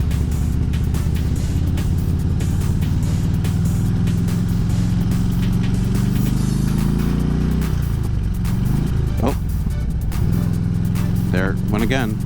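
A motorcycle engine drones loudly in traffic while the rider struggles with a gearbox that will not shift into second, with revs rising and dropping. Wind buffets the microphone and a voice talks over the engine.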